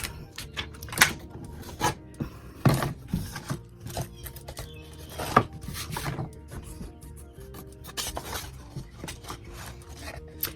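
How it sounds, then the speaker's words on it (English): Rubbing an Iron Orchid Designs transfer onto a paper page, heard as soft, intermittent scraping and rubbing strokes with small clicks, close up and with no voices. "some of it needs to be rubbed a bit more"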